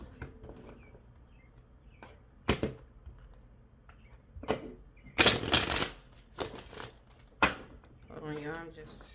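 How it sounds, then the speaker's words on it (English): Tarot cards being shuffled by hand, heard as sharp riffles and slaps in bursts with brief pauses between them, close and fairly loud, with short quiet stretches. "I'm just shuffling."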